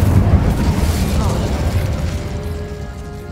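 An Incendio fire spell cast in Hogwarts Legacy gives a loud, rumbling burst of flame that roars at the start and slowly fades, with a game voice speaking over it.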